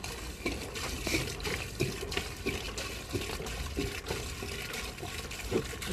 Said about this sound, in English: I got 5 gallons of water going down the line right now